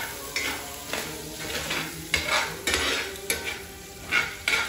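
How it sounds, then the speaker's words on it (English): Bacon frying in a pan, a soft sizzle beneath repeated clanking and scraping of a utensil against the cookware, close and uneven in rhythm, with no talking. "Bacon is cooking."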